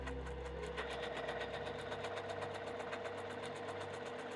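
A Juki industrial sewing machine stitches quilt blocks, a fast steady mechanical clatter with a low motor hum, close and continuous without pause.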